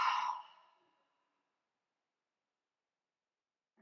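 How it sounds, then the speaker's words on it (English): A single long, breathy exhale during yoga breathing, close and soft, fading away within about a second and followed by near silence. "Deep, big breath in. And a long exhale out."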